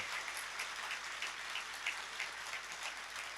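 A crowd at a religious discourse claps, steady dense applause heard faint and distant like a wash of patter, with no voices over it.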